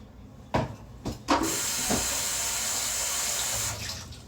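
Water runs steadily from a tap into a sink for face washing, preceded by a few sharp knocks and clatters, then flowing as a constant close hiss until it eases near the end.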